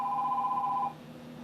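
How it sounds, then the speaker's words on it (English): A telephone bell rings in a steady warbling burst, fairly close and clear, then cuts off abruptly before a quiet room tone. "Let me get the phone first."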